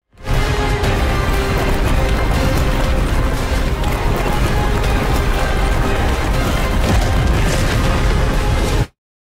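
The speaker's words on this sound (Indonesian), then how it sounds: "Pram dan Romantika beruntung selamat dari ledakan itu" A long, loud rumbling blast roars continuously for several seconds, a dense wall of crackling, booming noise that cuts off abruptly.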